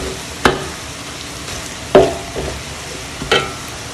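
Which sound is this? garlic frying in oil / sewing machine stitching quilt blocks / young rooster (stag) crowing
garlic frying in oil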